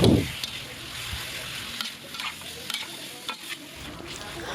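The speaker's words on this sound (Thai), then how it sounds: "ใส่เนื้อหมูลงไปแล้วก็ทำการผัดไปสักพักหนึ่งนะคะ" Pork sizzles and scrapes as it is stir-fried in a hot pan for Thai salted pork, with a steady frying hiss and irregular clicks of the spatula stirring, close up and with no speech.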